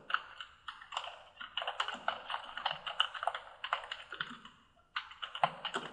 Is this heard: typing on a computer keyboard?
yes